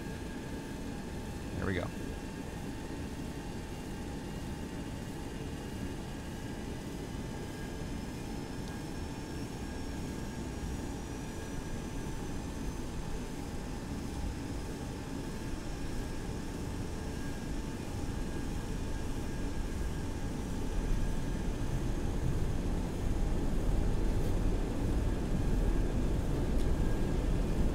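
A simulated Boeing 727 jet in the X-Plane flight simulator rolls for takeoff during a tail strike test, its steady engine roar slowly building louder, with a brief spoken remark near the start.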